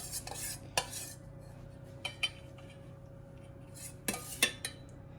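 A spoon scooping dressing over a blood orange, chicory, labneh and toasted hazelnut salad: a few sharp clinks of metal against a bowl, scattered and quiet over a steady background hum.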